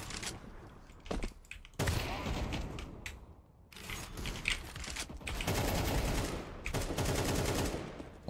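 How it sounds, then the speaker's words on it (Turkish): Rapid bursts of gunfire from Counter-Strike 2 deathmatch play, loud and near, firing in repeated sustained volleys with brief pauses between them. "Oğlum silah bir geç sıkıyor ya."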